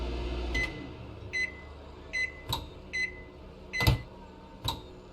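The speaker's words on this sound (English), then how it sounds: "and the ever essential microwave." A microwave oven in the Cooking Simulator video game gives a series of short electronic beeps at an irregular pace, interleaved with small button-press clicks and a low appliance hum.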